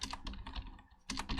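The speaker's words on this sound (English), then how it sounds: "we'll type chicken in here for this time" Quick bursts of close, crisp keystrokes on a computer keyboard, a short flurry, a brief pause, then more taps, with no voices.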